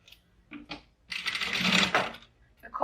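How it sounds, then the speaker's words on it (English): Sewing machine running a short line of basting stitches while assembling a fabric zip pouch, heard as a short whir and then a longer close mechanical run with light clicks before and after. "a couple of basting stitches over that just to make sure that that sits while I'm stitching"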